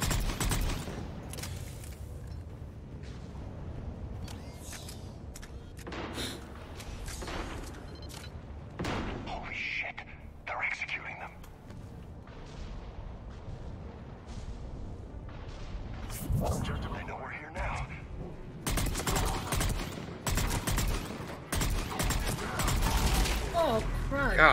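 Weapon fire in Mass Effect 3: repeated booming shots and bursts scattered across a long stretch of loud game action, with people talking over the gunfire.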